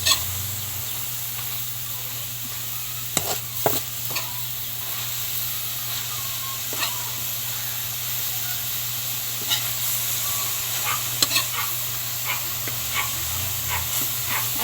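Cassava leaves simmering in coconut milk in a pan, stirred now and then: a steady close sizzle and bubbling fills the whole stretch, with a few sharp scrapes and knocks of the spoon against the pan.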